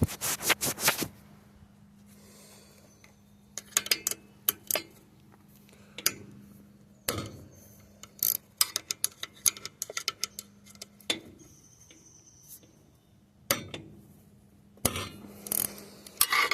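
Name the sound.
removing connecting rod bolts from a Predator 212 engine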